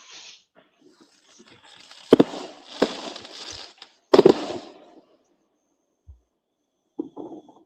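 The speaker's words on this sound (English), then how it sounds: "Oh, they got fireworks." Fourth of July fireworks go off outdoors, with a handful of sharp bangs and pops spread irregularly over several seconds and faint crackling trailing after some of them.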